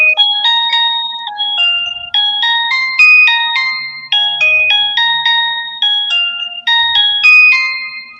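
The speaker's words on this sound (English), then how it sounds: "Phone goes off." A cute analog-sounding phone ringtone melody plays as a bright, bell-like electronic tune of repeating ascending and descending note phrases, loud and clear for about eight seconds with no talking over it.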